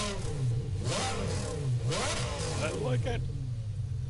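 An Audi R8 LMS race car in Gran Turismo Sport revs and accelerates, its engine note sweeping up and down through several gear changes while someone talks over it.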